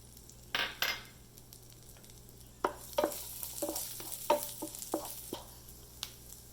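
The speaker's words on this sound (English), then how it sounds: "So now we are going to add the ginger garlic." Ginger garlic paste hits a hot pan and sizzles softly while a spoon scrapes and taps the metal in a series of close, uneven strokes.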